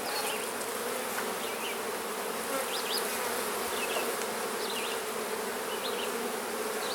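Dense, steady buzzing of many honeybees from a large hive opened up for a split, close and continuous with no pauses and no voices.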